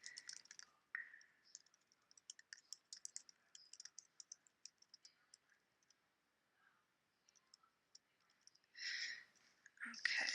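Quick, light clicks from a computer keyboard come in irregular bursts and pauses, close and soft, with a few brief breathy noises near the end.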